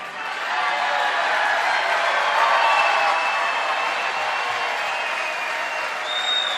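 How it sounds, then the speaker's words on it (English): Rapturous applause from a large audience, dense sustained clapping with some cheering that holds evenly for several seconds, with a faint thread of voices mixed in. "Rapturous applause for that."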